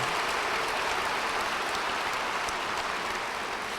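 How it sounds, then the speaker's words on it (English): An audience claps at a book event, greeting a moderator with a steady, dense patter of many hands, sustained at an even level with no speech over it. "give her a round of applause"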